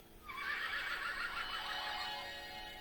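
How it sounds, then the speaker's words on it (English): A recorded unicorn neigh plays from a children's sound book: a single bright, whinnying horse-like call lasting a couple of seconds. It is close and clear, with no talking over it. "Don't tickle the unicorn. You might make it neigh."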